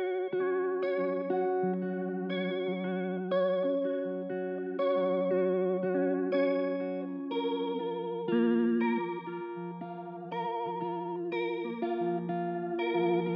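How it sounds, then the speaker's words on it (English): Electric guitar run through distortion and chorus effects plays a steady, sustained chordal part with rich harmonics, loud and alone for the full length. "So what I added was this electric guitar."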